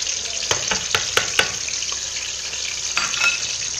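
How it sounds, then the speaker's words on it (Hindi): Garlic and green chili paste frying in hot ghee fills the clip with a steady sizzle, broken by a few sharp clicks and scrapes of stirring, close and without talk. "डाल के इसको मैं फ्राई करूँगी"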